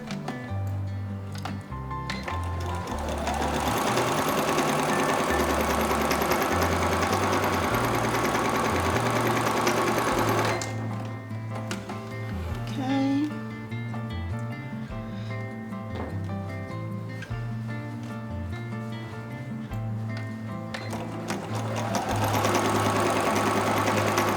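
An Empisal sewing machine fitted with a presser foot from a 15-piece kit runs in steady whirring, motor-driven stretches of straight stitching, pausing briefly midway before starting again, close and loud with no talking.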